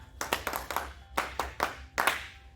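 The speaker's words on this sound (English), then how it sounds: "clap hands for her" A classroom of pupils claps hands together in several quick bursts, a short round of sharp, rhythmic applause heard close by without talk.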